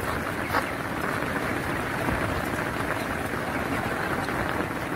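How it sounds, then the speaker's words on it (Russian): Steady rain pours down outdoors near a farmyard with a sheep standing in it, a dense even hiss holding constant throughout without pause. "Слышите, какой дождь пошел?"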